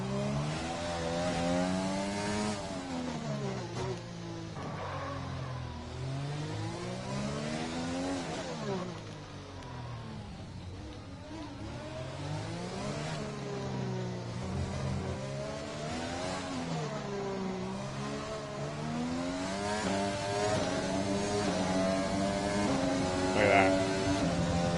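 Formula 1 race car engine in the F1 2020 game at full throttle, a steady loud whine rising and falling in pitch through repeated gear changes across the whole stretch, with faint talk underneath.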